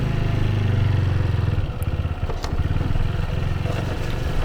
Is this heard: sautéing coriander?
no